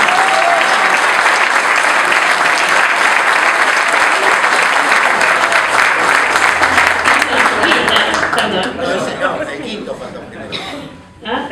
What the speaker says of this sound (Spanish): El quinto concejal, un fuerte aplauso para Alejandro Campi.